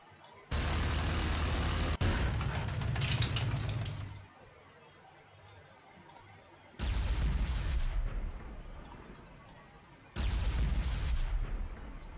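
Artillery in Warhammer 40,000: Sanctus Reach fires three loud, booming volleys with rumbling tails, separated by quieter gaps of low background sound, heavy and close.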